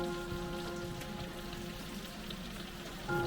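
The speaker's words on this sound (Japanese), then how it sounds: "もう雨がすごい。" Heavy rain pours down steadily on surfaces outdoors during cleanup work around a kei truck, a dense, continuous patter with scattered louder drops and a faint steady hum underneath, no talking.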